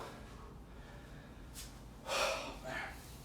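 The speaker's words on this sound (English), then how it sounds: "Definitely got the heavy breathing going." Heavy, forceful breaths come in during an upper-body workout, a couple of loud exhales near the close amid quiet background hum, with no talking over them.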